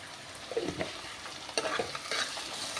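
Kasuri methi fried in a hot oil tempering for a drumstick vegetable dish gives a steady low sizzle, broken by a few close scraping stirs of a spoon in the pan.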